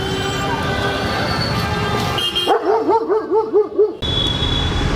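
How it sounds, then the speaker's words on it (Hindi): Dogs bark and whimper in a short burst of rhythmic yelps midway through, standing out over a busy outdoor background of street noise and voices. "जो यहाँ के कुत्ते हैं"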